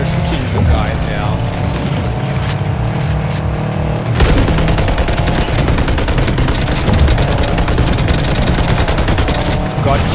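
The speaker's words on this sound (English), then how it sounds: "But at least we are shooting the guy there." Rapid gunfire in Cyberpunk 2077 while chasing and shooting at a rival racer, dense repeated shots over engine and game noise, with someone talking throughout.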